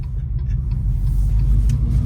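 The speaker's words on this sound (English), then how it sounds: "Dude, it sounds like a Hemi idling." A deep, steady rumble like a V8 engine idling, the synthetic engine sound of an electric 2024 Dodge Charger, continuous low throb heard from inside the car.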